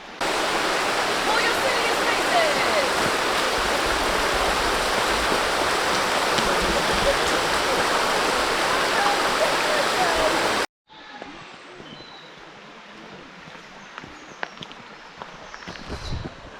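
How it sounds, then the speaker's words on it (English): Loud, steady rush of the White Lady Waterfall pouring down on a rainy-day hike, a dense roar that cuts off abruptly and gives way to a quieter, more distant wash of water. "So there we go, that is the White Lady Waterfall."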